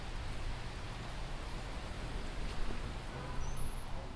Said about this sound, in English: It's a typical rainy day here in South Florida, which happens in late summer.